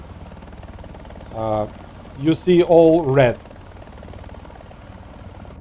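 A helicopter from the video game War Thunder drones steadily in the background as a low rotor and engine hum. A player talks loudly over it in short bursts.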